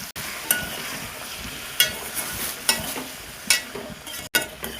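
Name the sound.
stirring and sautéing in a pan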